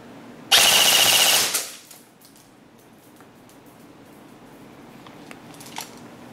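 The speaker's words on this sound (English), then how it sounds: "And then we test the rate of fire." An airsoft VSR bolt-action rifle with a precision inner barrel and extended outer barrel fires in a rate-of-fire test: one loud, sharp burst of roughly a second, followed by faint handling clicks in a quiet room.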